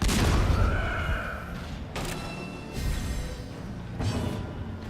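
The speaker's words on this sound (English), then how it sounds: "Cannon." A cannon fires in the dungeon-crawler game Darkest Dungeon, a series of booming blasts with sharp attacks and decaying tails, spaced about a second apart, loud and alone.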